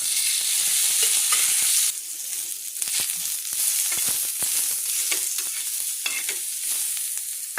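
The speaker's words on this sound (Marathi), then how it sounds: "उभा कांदा कापला आणि आजीने तेल टाकून आजी तो कांदा भाजून घेते आहे." Sliced onion frying in oil in a pan: a steady bright sizzle throughout, stirred now and then with soft scraping taps, close and fairly loud, no voices.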